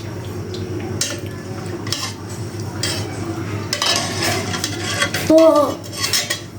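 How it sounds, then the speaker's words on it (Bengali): Noodles tipped into a pot of Thai soup and stirred, with a ladle clattering and scraping against the metal pot in busy, close bursts. One brief word is spoken. "এখন আমি নুডলসটা দিয়ে দিব, তখন নাড়াচাড়া করবো"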